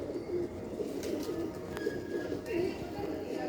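Pigeons in a Sialkot loft coo softly in low rolling phrases, repeating steadily nearby amid faint background noise and a brief chirp.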